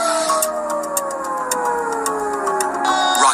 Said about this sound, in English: air sirens blared across the country